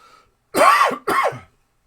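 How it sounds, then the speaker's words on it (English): A person coughs twice in quick succession from dust kicked up while assembling a 1972 Williams Superstar pinball playfield, short, harsh and close, after a faint murmur at the start. "whenever I use one of these, I just cough like crazy"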